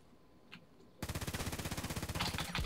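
An X95-R assault rifle in the shooter game Contract Wars opens up after a brief quiet moment, firing a loud, rapid automatic burst of evenly spaced shots that runs unbroken to the end.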